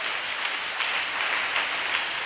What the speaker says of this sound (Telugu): చప్పట్లు కొట్టండి, కొంచెం గట్టిగా